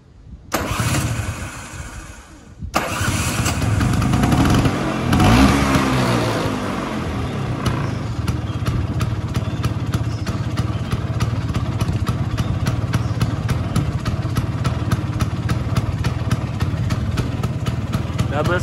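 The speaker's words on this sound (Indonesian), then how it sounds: "Kita coba nyalain mesinnya." A 2006 Vespa Excel scooter cranks briefly, stops, then catches and starts. The engine then settles into a steady, close idle with a rapid, even putter.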